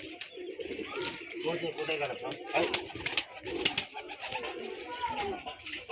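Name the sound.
pigeons cooing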